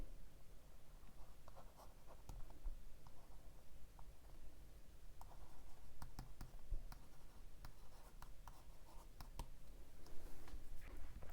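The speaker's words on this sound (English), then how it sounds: "the writing here is faster than the writing on the Remarkable 2, so you feel like you are writing in the moment" A stylus writes on a Remarkable Paper Pro e-ink tablet, faint continuous scratchy strokes with small clicks and taps, close and quiet, with no talking.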